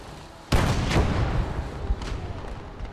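Mortar fire in the World War II strategy game Gates of Hell: Ostfront during a PvP battle: one loud, sharp blast lands with a rumbling tail, and fainter follow-up thuds sound a moment later.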